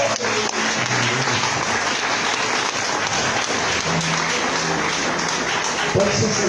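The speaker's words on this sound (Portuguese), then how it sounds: "Você pode aplaudir o Senhor?" A church congregation claps together in a sustained, dense wave of applause during a worship service, loud and steady throughout with no pause.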